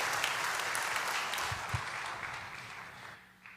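A church congregation claps together, a dense steady roar of applause that fades slightly toward the end.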